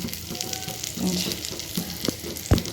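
Pieces of pointed gourd (potol) fry in hot oil in a pan. A close, continuous sizzle is broken by a couple of sharp clinks from a utensil toward the end.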